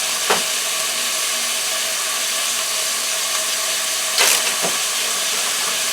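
Frozen red peppers hit a hot pan and sizzle with a loud, steady, close hiss, broken by a couple of sharper bursts.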